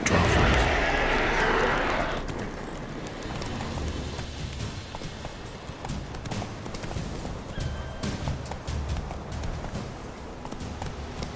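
In The Witcher 3, the horse Roach gallops with fast, rhythmic hoofbeats. A loud rushing noise opens the passage, then the hooves continue steadily at mid distance.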